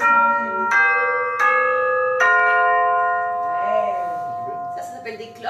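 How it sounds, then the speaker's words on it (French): Orchestral percussion bells struck one at a time at a rehearsal, each clear metallic strike ringing with a long sustained tone. The strikes come every second or so, close and loud, with faint chatter from children in the background. "On a les cloches aussi."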